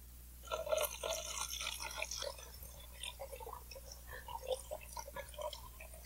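About 1.5 liters of homemade liquid fertilizer water, made by soaking half a kilo of watermelon rinds for two days, is strained, giving a faint, steady trickling and splashing over a low background hum.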